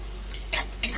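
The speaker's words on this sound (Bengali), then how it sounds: "আদা রসুন বাটা আর পেঁয়াজটা আরেকটু ভাজা ভাজা করে নেবো যাতে গন্ধটা না থাকে" Onion and chilli fry with ginger garlic paste in a pan, a quiet sizzle under two sharp stirring scrapes of a utensil against the pan, close and brief.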